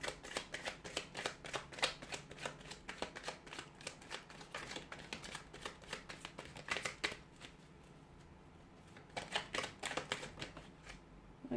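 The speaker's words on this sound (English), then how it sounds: "I'll go ahead and give the cards a shuffle" Tarot cards are shuffled repeatedly in quick, crisp riffling bursts, close and fairly quiet, with short pauses between rounds.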